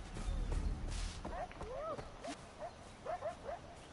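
Dogs in the video game Far Cry 4 yelp and whimper in short bursts at moderate distance, mixed with game noise and a low rumble, while someone talks over them.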